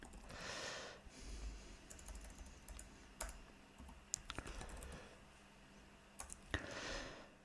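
Faint bursts of quick clicks from a computer keyboard as a folder name is typed, scattered key taps in short runs over a quiet room hum.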